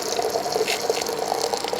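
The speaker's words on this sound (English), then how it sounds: "pour it in until the water reaches the top of the little red compartment" Boiling water poured into a yogurt-making canister, a short, close, steady splashing trickle with faint rattling and no speech.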